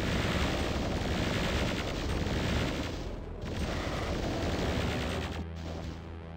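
Plasma rifle in the Doom mod Auger;Zenith, fired in a rapid unbroken stream of dense energy bursts that keep on loudly for several seconds.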